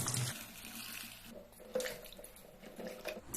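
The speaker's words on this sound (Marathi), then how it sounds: "तर आता ही भेंडी आपण धुवून घेऊया." Country okra being rinsed under a running kitchen tap, with a steady close splash of water that eases off midway and then returns with a few clatters.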